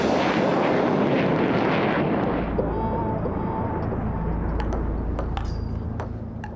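Harrier fighter jets taking off and heading out toward Helmand from an air base in Afghanistan; a loud, roaring jet engine blast gradually fading into the distance, with a few sharp clicks near the end.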